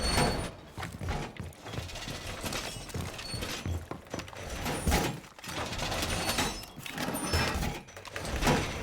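A wall being reinforced in the Rainbow Six video game, producing a continuous stretch of mechanical clanking, sliding and creaking with repeated metallic hits, close and fairly loud with no speech.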